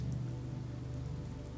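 Rain falls steadily on a misty night in Salem, a soft continuous patter with a low, even hiss, close and unbroken throughout.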